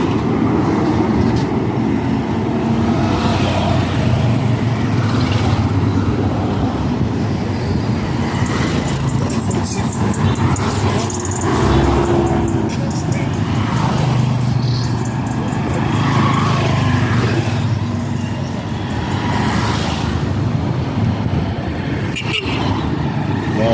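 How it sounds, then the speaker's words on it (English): A motorbike carrying iron sheets passes along a busy street in Kisii town, its engine rumbling under a continuous wash of loud nearby road traffic. "A motorbike carrying iron sheets"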